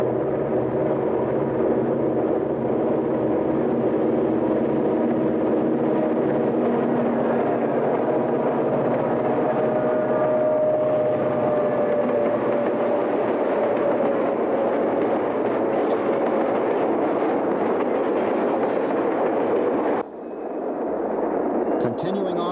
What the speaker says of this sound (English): here comes our number 3622 headed stack and freight train